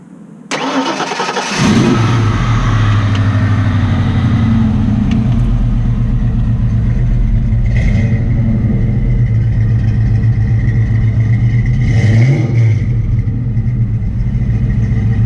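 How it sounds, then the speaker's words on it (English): A 1968 Ford Mustang California Special cranks over and catches after a moment of silence, then settles into a loud, steady idle close by, with a couple of rising throttle blips cutting through. "Fire this baby up. Let's see what it sounds like."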